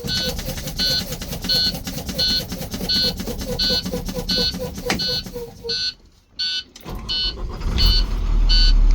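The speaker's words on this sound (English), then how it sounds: "The alarm has gone off." Low air pressure warning alarm on an IC school bus air brake system, a loud repeating electronic beep in a steady rhythm that cuts out briefly near the end as low mechanical rumble and air noise rise.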